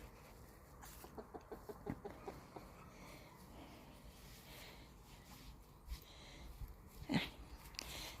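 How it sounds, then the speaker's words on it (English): A dog barks a few times in the distance at chickens clucking faintly around it, all quiet with outdoor background noise. "Chickens are not to be barked at."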